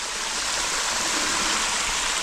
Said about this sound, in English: That water is pouring down, making rust colors.